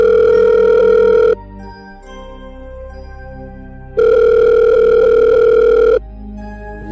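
A phone line rings out: two loud, long electronic tones separated by a pause of a couple of seconds, with no voices.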